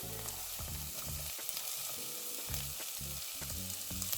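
Peeled, chopped vegetables fry in hot oil in a pan for a katsu curry, a loud continuous sizzle with repeated clattering stirs and pan knocks in an uneven rhythm.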